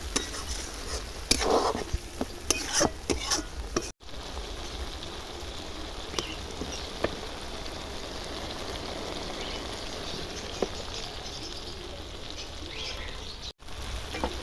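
Spice paste that has begun releasing its oil sizzles steadily in a pan for a spicy meat curry, with scraping stirring clicks scattered through it and a few faint background chirps.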